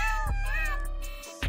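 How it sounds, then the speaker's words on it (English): A kitten gives one drawn-out, wavering meow, close and clear, with a short extra cry at the very end. "they're falling out into our reality at a rate of 3 kittens per second"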